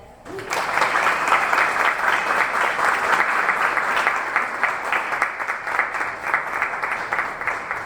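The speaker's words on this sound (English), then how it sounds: "let's give a round of applause for Nohemy again" An audience at a bike storytelling night in Dallas breaks into loud, sustained applause, many hands clapping together steadily for several seconds.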